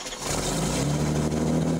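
An old school inline-six on an engine dyno, primed with break-in oil and running 93 octane, fires up and settles into a loud, steady rumbling run close by, without any talking.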